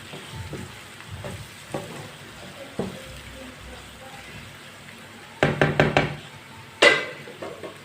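A spoon stirs ground white cumin into tinda curry cooking in a pan. Soft sizzling runs throughout, broken by scattered knocks and then a quick cluster of louder scraping clatters near the end.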